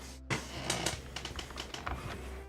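Rapid clicky typing on a computer keyboard, a steady run of close, crisp keystrokes with no voices over it.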